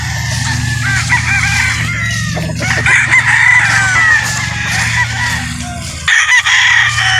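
Roosters of show fowl breeds, including a white one and a Boston Black straight comb, crow loudly and close by, with several overlapping crows and clucks filling the clip and a brief break near the end.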